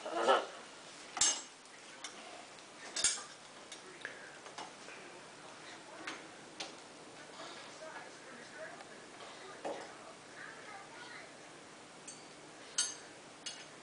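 Spoons and other cutlery clink now and then as they are picked up and handled, light metallic taps scattered irregularly under soft background noise, with a few brighter knocks among them.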